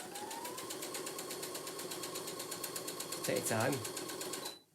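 Sewing machine running steadily while stitching a curved handbag seam, a fast even mechanical whir throughout, with a voice speaking briefly near the end as the motor slows and stops.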